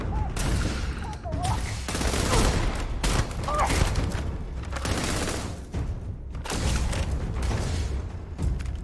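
Sustained gunfire from a Starfield firefight, dense bursts and booms rolling continuously at close range with brief gaps, while voices shout over the shooting.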